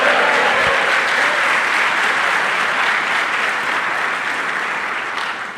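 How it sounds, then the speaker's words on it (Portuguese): A church congregation applauds during a sermon, sustained dense clapping that fills the room and gradually tapers off. "E se você recebe, dê um aplauso ao Senhor."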